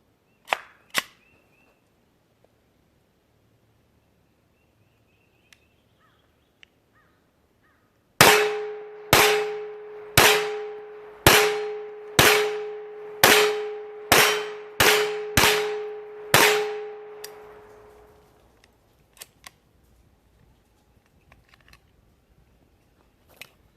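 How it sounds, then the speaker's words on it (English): A Hi Point 995 carbine fires about ten shots at a steady pace into a target at a range. Each report is sharp, loud and ringing, with a metallic clang that decays between shots. "both hands wide open, shooting into the target, all center mass"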